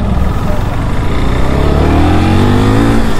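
A KTM RC 390 motorcycle engine revs loud and close, a continuous rising roar that climbs steadily in pitch with heavy wind noise throughout.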